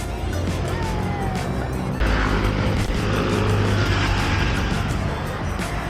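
Motorbikes pass along a road near a campsite, a steady loud engine drone that swells slightly as machines go by, with no clear talk over it.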